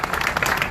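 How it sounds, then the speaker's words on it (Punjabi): A brief burst of audience clapping at a gathering of a pigeon-flying association, dense and fairly loud, with a voice faintly mixed in. "ਤੁਹਾਡੀ ਭਰਪੂਰ ਤਾਲੀਆਂ"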